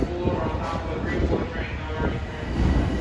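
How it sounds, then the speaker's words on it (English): A Long Island Rail Road commuter train moves through Jamaica station with rumbling wheels and rhythmic rail clatter, heard close and steady while someone talks over it. "The train on the left is train 664, headed for Port Jeff."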